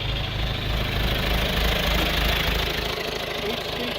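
A John Deere 2355 industrial tractor diesel idles steadily with its live PTO engaged through the two-stage clutch, a close, continuous low rumble with a slight easing near the end.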